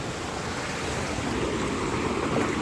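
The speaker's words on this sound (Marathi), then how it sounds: "यावर्षी मासं काय माणूस पण वाहून जाईल त्याच्यात एवढा बेकार पाणी" Heavy floodwater rushing past in a loud, steady, broadband roar that fills the whole stretch without a break, with no voices over it.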